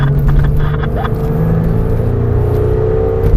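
A Porsche 911 engine roars and revs up loudly up close, a steady rising drone with rumbling low end.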